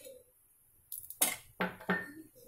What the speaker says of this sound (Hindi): दूसरा स्टोव को जलाकर एक डेक्सी को रखेंगे।